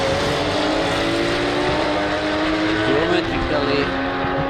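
Porsche Cayman race cars lapping a circuit in Riga during a Baltic circuit racing championship, engines droning steadily and rising as they pass, with a commentator talking over the continuous engine noise.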